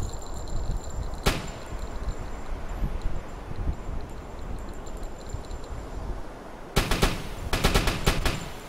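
Gunfire in the submarine game Uboat crackles from a distance: a single sharp shot, then a long lull of wind-like noise, then a cluster of rapid loud bursts near the end.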